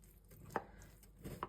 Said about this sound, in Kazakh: Қазір сіздерге турап